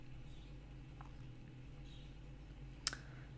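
A single computer mouse click on a generate button stands out sharply in a quiet room over a low, steady electrical hum.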